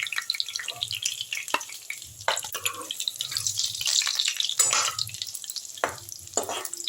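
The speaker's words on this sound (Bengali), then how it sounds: "কাঁচা কলার কোপ্তাগুলো দেখো এরকম ঘুরিয়ে ঘুরিয়ে আমি লাল লাল করে ভেজে নিলাম" Raw banana koftas frying in oil, giving a steady sizzle with soft stirring scrapes and occasional clinks, close by with no talking.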